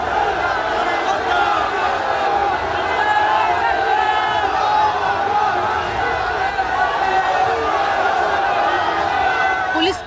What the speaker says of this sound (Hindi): देखते ही देखते भीड़ अल्लाहू अकबर के नारे लगाते हुए